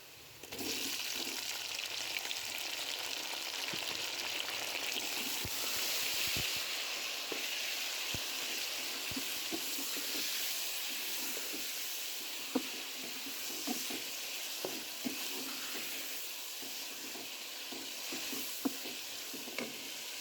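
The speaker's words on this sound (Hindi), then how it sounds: "अब मैं इसमें ऐड करूँगी टमाटर, जो कि मैंने यहाँ पे लिए ½ kg" Half a kilogram of tomatoes sizzling and frying with browned onions in a pan for a spicy quail stew, a continuous close hiss broken by frequent stirring clicks and scrapes.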